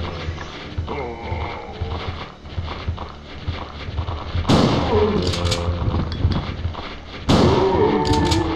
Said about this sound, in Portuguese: Vou dar dois tiros com ela.